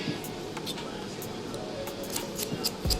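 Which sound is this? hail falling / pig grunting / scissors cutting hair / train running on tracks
scissors cutting hair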